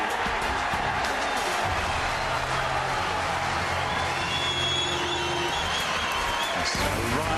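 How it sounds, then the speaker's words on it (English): Loud, dense applause and cheering fill the arena at the 1998 Masters snooker final between Stephen Hendry and Mark Williams, steady throughout, with a commentator speaking faintly beneath. "Rapturous applause"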